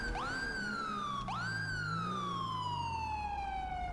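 Police car siren in the video game GTA 5, two loud rising wails each followed by a long falling sweep, clear and steady with no talking.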